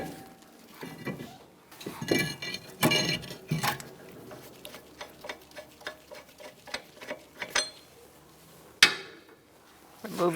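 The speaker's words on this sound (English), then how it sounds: "Ours is pretty stuck, so I'm going to put a lug nut on and use a hammer to get it off." Repeated sharp metallic hammer strikes on a lug nut to free a stuck front brake rotor on a Chrysler 300, at an uneven pace, ringing close by, with a few louder blows standing out.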